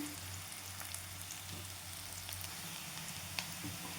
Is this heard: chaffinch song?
no